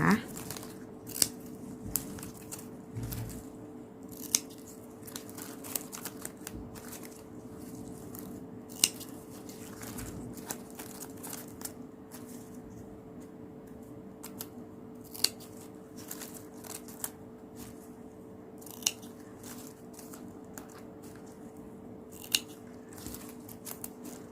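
Sharp scissors snips trim ribbon ends for a rose coin garland, coming as scattered, close, crisp cuts spaced irregularly over a quiet room hum.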